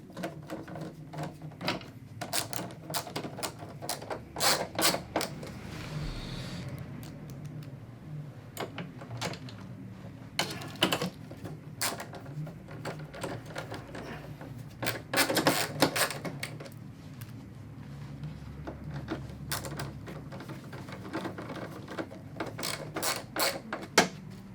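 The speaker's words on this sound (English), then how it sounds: "so I'll just pop the screws in" A screwdriver driving screws into a Sony 32WD756 television stand, heard as quiet clicking ratchet-like ticks and scraping in irregular bursts, close and fairly faint, with brief handling noises between them.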